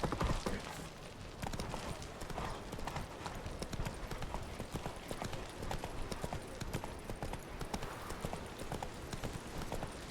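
Hooves of Roach, the horse in The Witcher 3 video game, clip-clop in a brisk, steady rhythm for the whole stretch, moderately loud over faint game ambience.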